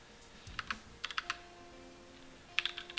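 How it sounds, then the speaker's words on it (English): Quiet typing on a computer keyboard in irregular clusters of light clicks, with short pauses between bursts and no voices. "So we just continue typing after this paragraph."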